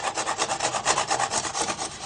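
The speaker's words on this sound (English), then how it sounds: "use this glass scraper, and that will soon fetch that off" Steady back-and-forth scraping of a glass scraper on oven glass, a rhythmic rasping stroke repeated about ten times, close up with no voices.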